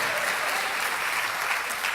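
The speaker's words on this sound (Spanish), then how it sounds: "Si ese aplauso para Cristo, démoselo todos." A church congregation applauding during a Spanish-language sermon, a steady, full crowd clapping that stays close and even for the whole stretch with no talk over it.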